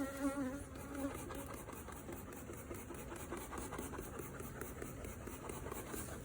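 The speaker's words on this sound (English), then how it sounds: "you can see all the field bees coming back" Honey bees buzz around a hive as field bees return, a dense continuous hum with faint mechanical drone underneath and no voices.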